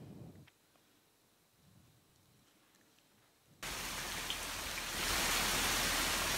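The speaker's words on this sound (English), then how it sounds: "That's just my site visit a few months back when it was a beautiful monsoon rain." Monsoon rain at a building site, first a faint background patter that suddenly turns into a loud, steady hiss of heavy rainfall.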